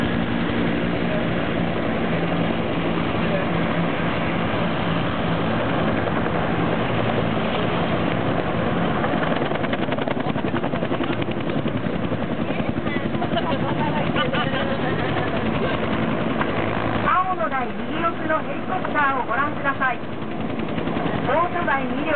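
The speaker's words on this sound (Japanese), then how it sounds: "続いてオートバイを搭載した多用途ヘリコプター2機が進入します" A steady, loud rotor-and-engine drone of two utility helicopters carrying motorcycles fills the air throughout at a military anniversary display, a constant roar with gunfire-like rattles mixed in.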